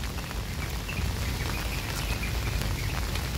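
Heavy rain pouring steadily and densely on an empty outdoor street, a continuous loud wash with no breaks.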